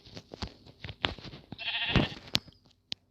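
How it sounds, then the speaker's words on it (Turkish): Short, close bleats from a sheep in Minecraft, several quick calls with clicks and thumps between them, one longer wavering bleat in the middle. "Koyun."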